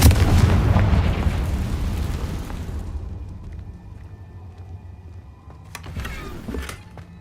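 Confringo fire spell explosion from Hogwarts Legacy gameplay: a loud, rumbling blast that booms and decays over about three seconds, followed by quieter crackling and a smaller burst near the end.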